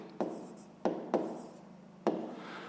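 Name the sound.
writing down a math solution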